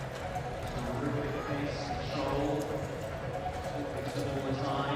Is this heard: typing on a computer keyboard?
no